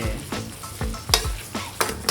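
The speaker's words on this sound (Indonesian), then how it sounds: "ayam gorengnya kita masukkan ya" Pieces of fried chicken for butter chicken (ayam goreng mentega) sizzle and scrape in a hot pan, with repeated stirring strokes and crackling frying noise, close and fairly loud with no talking.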